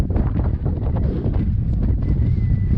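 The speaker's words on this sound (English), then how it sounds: "And the wind is blowing pretty well." Strong wind buffets the microphone in a steady, roaring rush on a high mountain trail near Gorakshep on the Everest Base Camp route.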